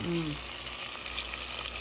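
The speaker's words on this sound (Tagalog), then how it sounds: "So, ato na ilunod ang atong mga sauce." Spaghetti sauce poured into a hot frying pan over browned ingredients, Filipino-style, giving a steady, loud, close sizzle that fills the whole short stretch, with a brief tonal sound at the very start.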